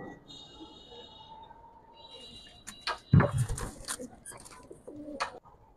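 Young fancy pigeons of breeds such as silver pankhi and laldom give soft, low coos close by, with a louder burst midway, mixed with a person talking.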